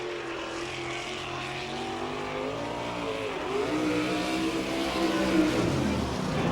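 A sprint car at Fremont Speedway in Ohio roars through a qualifying lap, its engine a sustained, slightly rising drone that swells as it passes, loud and unbroken throughout.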